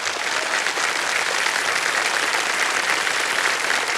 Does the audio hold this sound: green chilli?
no